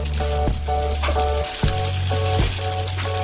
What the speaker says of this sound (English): Lastly, put the mixture on a frying pan.